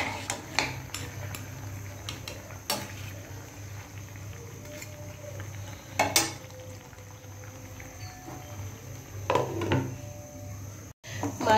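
Chunks of bottle gourd go into a pan where fish pieces are frying in spices, with scattered clinks of utensil on metal and soft shuffling over a low, steady kitchen hum; a few sharper knocks stand out.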